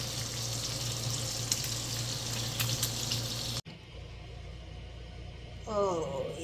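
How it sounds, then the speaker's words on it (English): Sausage, bacon and eggs frying in a skillet make a steady sizzle for about three and a half seconds before cutting to a quieter scene where a voice speaks. "cooking sausage breakfast, bacon and eggs,"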